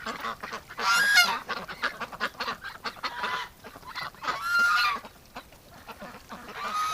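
Ducks in a winter pen quack and honk in loud, close bursts, with rapid chattering calls and softer gaps between.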